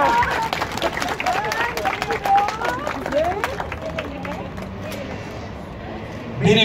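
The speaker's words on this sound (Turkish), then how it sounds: "Büyük alkışlar alıyorum kendilerine." A wedding audience applauds the witnesses at a theatrical civil ceremony, a moderate wash of clapping and crowd murmur running beneath someone talking over it, fading toward the end before a sudden louder burst.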